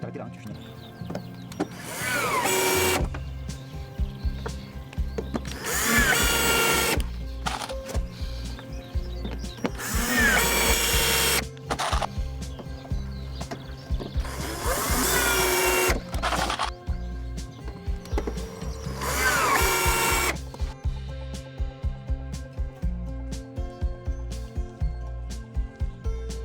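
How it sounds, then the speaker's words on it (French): Power screwdriver driving screws all the way into a slab, several loud whirring bursts of a few seconds each in a steady rhythm, with low hum and work noise between them. "on finit de visser les vis entièrement"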